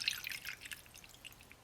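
Water poured over tamarind in a kitchen vessel for a Mangalore chicken pulimunchi masala, heard as faint, scattered dripping and splashing trickles alone throughout.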